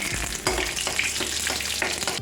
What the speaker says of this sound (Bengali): প্রথমেই দিচ্ছি একটা তেজপাতা, একটা শুকনো লঙ্কা আর একটু রাঁধুনি ফোড়নে